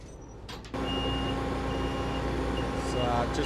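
A heavy, extra-wide machine with extenders is backed off a trailer, its engine rumbling loud and steady after a sudden start, with steady tonal reversing beeps repeating over the drone.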